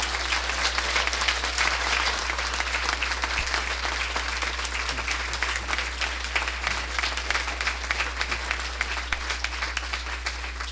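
A large audience applauds steadily at Harvard Divinity School as Dean David Hempton is welcomed, with dense, sustained clapping that fills the room and holds at an even level throughout.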